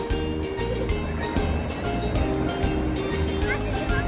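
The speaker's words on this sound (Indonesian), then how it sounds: "Suara deburan ombak sangat membuat hati nyaman" Ocean waves break and wash along the shore at a beach with rock formations in Malang, giving a steady rushing surf with faint rhythmic swells.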